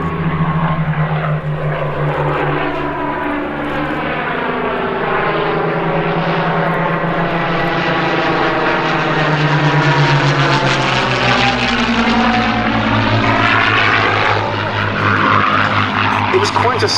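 A Spanish-built Messerschmitt Bf 109 flies past at an airshow, its propeller engine droning steadily with a rising and falling Doppler sweep, loud throughout with commentary running underneath.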